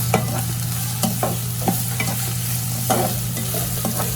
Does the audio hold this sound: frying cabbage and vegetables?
yes